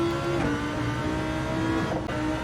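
Race car engine in Gran Turismo 7, played in VR with a steering wheel: a continuous loud, sustained engine drone with shifting pitch as it revs, close and alone without talk.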